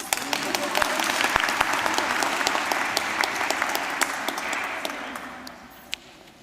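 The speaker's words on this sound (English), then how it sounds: "Round of applause." Steady crowd applause fills a graduation ceremony at City College Dublin, dense clapping with a few sharper individual claps standing out, slowly fading toward the end, with faint voices underneath.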